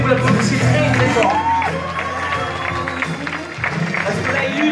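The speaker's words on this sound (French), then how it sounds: "Je voudrais que vous l'encouragez, que vous l'applaudissiez très très fort" A stage hypnosis show audience applauds and cheers loudly, with dense clapping, whoops and shouts running continuously throughout.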